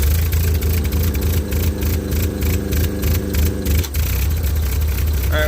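Ford 9N tractor engine in cold weather, running roughly with a low rumble and mid-range clatter for several seconds before the tone shifts near the end; close and steady, with no talk.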